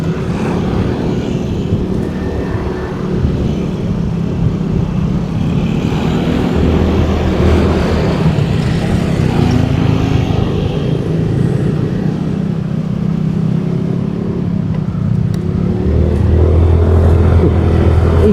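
A Suzuki Nex 2 scooter-style motorcycle being ridden on IRC factory tires, its small engine droning steadily with wind rush throughout, loud and continuous with no talking.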